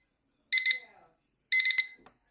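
An XREXS kitchen timer gives two short bursts of bright, close electronic beeping, each a quick double chirp, separated by silence.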